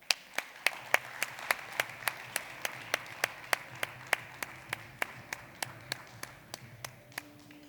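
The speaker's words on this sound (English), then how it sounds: "Please give him a round of applause." Clapping welcoming the Minister for Sports, Arts and Culture at a football summit closing ceremony in Africa: sparse, evenly spaced claps, roughly three per second, fairly quiet and alone against a low background hum.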